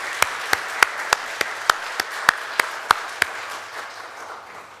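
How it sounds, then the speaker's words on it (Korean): A church congregation claps in encouragement: about eleven sharp, evenly spaced claps sound over a quiet room hum, then stop. "다시 한번 우리 박수로 격려하면 참 좋겠습니다"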